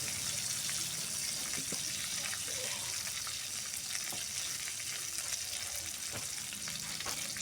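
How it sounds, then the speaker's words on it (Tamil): Spices tempering in hot oil for a Tamil-style fish curry, a steady faint sizzle and crackle with occasional small pops, continuous and alone without talk. "ஃபைனலாக குழம்பு தாளிக்க போகிறோம்"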